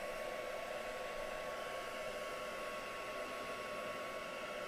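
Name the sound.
heat gun or dryer drying mixed media paint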